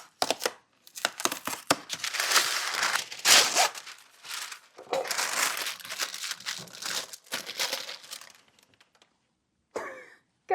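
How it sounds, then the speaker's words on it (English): Parchment paper is crinkled and pressed into a dish being lined for marshmallows, giving a busy, close rustling and crackling that runs in bursts for several seconds before trailing off. "I'm gonna prep the dish I'm putting the marshmallows in with some parchment paper."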